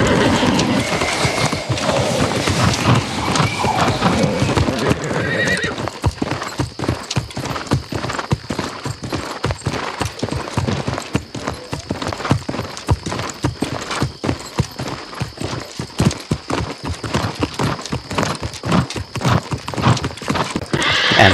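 A horse in the video game New World gallops along a road, its hooves making loud, rapid, rhythmic clip-clops that carry on for about twenty seconds, with a whinny near the start.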